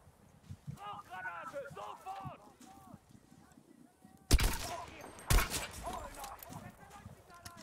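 Gunfire in the Battlefield V single-player campaign: someone talks first over faint background, then two sharp, loud shots about a second apart ring out, each trailing into rumbling echo and battle noise.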